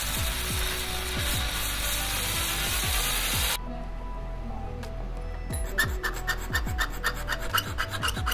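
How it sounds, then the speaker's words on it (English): A hand file rasps back and forth across the corners of a metal switch plate, rounding them off in quick repeated strokes, up close and with no talking. "I also used the file to give the corners a round shape"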